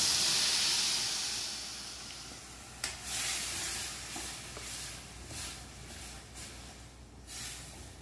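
Crab tamarind broth hits hot mustard oil in a wok with a loud rush of hiss and steam that fades over several seconds into a quieter bubbling sizzle with a few sharp pops.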